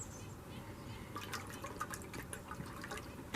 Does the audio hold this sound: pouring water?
yes